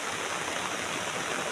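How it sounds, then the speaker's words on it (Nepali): Rainwater runs down a small gully in a continuous hissing, splashing rush, steady and fairly close, with no voices. "खोल्सीमा त पानी आएर अहिलेसम्म पानी आएको छ"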